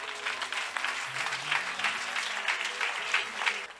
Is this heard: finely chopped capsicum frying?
no